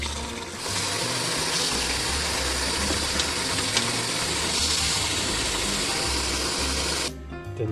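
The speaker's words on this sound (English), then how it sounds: "We have to blanch it with cold water." Cold water runs steadily from a tap while rice is rinsed for Chinese fried rice, a continuous loud gushing hiss that cuts off near the end.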